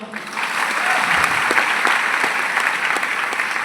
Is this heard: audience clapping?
yes